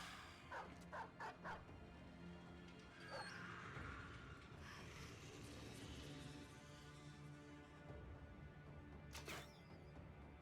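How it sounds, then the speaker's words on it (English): A war dog in the video game Battle Brothers lets out a quick cluster of yapping barks near the start, then a sharp yelp later, over busy game music and combat effects. "Let's drop a dog off right on their face."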